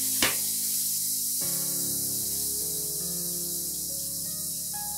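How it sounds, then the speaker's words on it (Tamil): Water is poured into a hot pan of sizzling coconut, ginger and garlic, setting off a sudden loud hiss that settles into a steady bubbling sizzle, close up, with no talking. "தண்ணி கொஞ்சம் ஆட் பண்ணிக்கலாம்."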